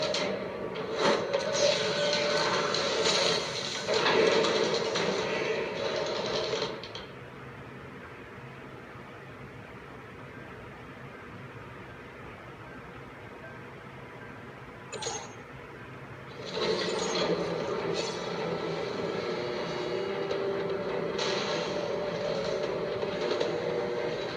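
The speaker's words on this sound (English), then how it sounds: "These conveyors are bringing containers of extra coolant to the core" Conveyors carry coolant containers toward a reactor core in The Amazing Spider-Man 2, a rumbling mechanical clatter that runs loud for several seconds, drops to a low hum, then returns with clanking and rattling.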